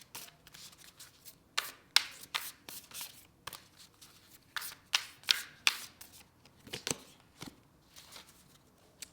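Tarot cards are shuffled by hand in quick irregular bursts of crisp riffling and slapping, close and fairly quiet, with no voices.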